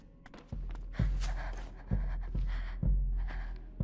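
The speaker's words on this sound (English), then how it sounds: "they can hear your breathing" A character breathes in the video game A Plague Tale: Innocence, heavy rhythmic gasping breaths repeating about once a second, close and fairly loud.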